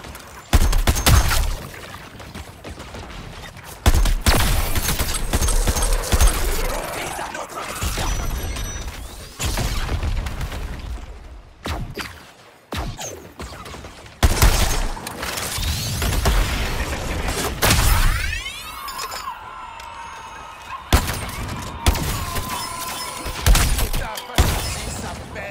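Enemy sniper fire in the Suicide Squad video game: sharp, loud shots and crashing impacts cut through a dense bed of game effects and mechanical noise, with several separate bursts spread across the scene.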